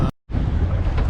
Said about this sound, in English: we are starting to get some wind-driven waves